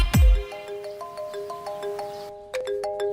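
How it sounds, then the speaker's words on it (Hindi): A phone ringtone plays a repeating melodic pattern of clear electronic tones, loud and close, after a brief low thump at the start. "बेटा, वो अजय के पापा का फोन है।"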